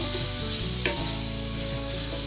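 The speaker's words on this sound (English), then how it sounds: "Then add the garlic and cook for about another minute" Onions and garlic sautéing in a pan for southern cornbread dressing, a loud continuous sizzle with a brief scrape of stirring.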